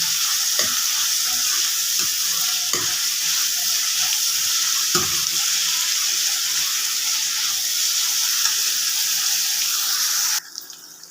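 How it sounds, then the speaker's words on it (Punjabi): Tempering of oil or ghee for saag sizzles loudly and steadily in a pan, a continuous hiss with a few soft clanks of stirring, then it cuts off abruptly near the end. "ਹੁਣ ਆਪਾਂ ਇਹਦੇ ਵਿੱਚ ਸਿਰਫ ਇਹ ਤੜਕਾ ਹੀ ਪਾਉਣਾ ਹੋਰ ਕੋਈ ਮਸਾਲਾ ਵਗੈਰਾ ਨਹੀਂ ਆਪਾਂ ਵਿੱਚ ਪਾਉਣਾ"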